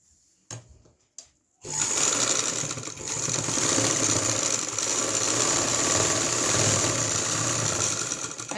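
A sewing machine stitches the shoulder seam of a lined kurti. A few brief clicks come first, then a loud, steady, close-up run of the motor and needle from about a quarter of the way in to the end.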